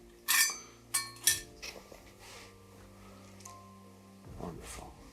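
A metal coffee kettle is picked up and handled inside an abandoned, castle-like building, giving a few sharp close clinks early on, then faint rustling and a low background hum.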